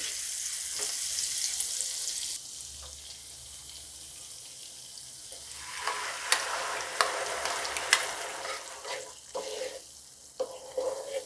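Prepared gravy for shahi paneer hits a hot pan with butter, cumin and garlic, ginger and chili pastes, giving a strong hiss that settles into a steady sizzle. Intermittent scraping stirs and clinks follow, with no talking.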